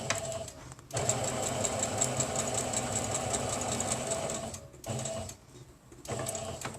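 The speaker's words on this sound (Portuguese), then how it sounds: "vou costurar aqui" A sewing machine stitching fabric for a small Christmas cutlery-holder boot, a steady close whirring hum of rapid stitching that stops briefly twice, near one second and around five to six seconds.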